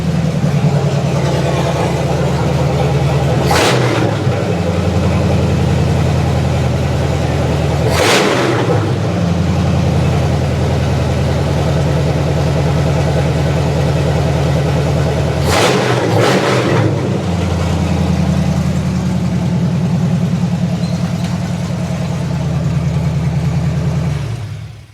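A rebuilt Chevy 350 V8 runs loud and close at a steady fast idle of about 2000 RPM, a constant deep drone broken by a few sharp broadband bursts.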